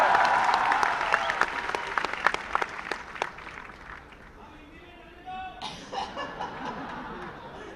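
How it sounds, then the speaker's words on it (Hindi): Audience applause at a Jaipur Literature Festival session with an actor, loud, dense clapping mixed with laughter and chatter that thins out midway, leaving a murmuring crowd and some speech. "तालियां जी, तालियां इसके लिए।"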